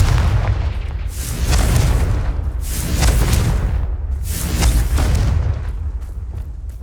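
Confringo fire spell in the Hogwarts Legacy video game: a continuous series of deep, rumbling explosive booms, loud and close, rolling one into another without any talking.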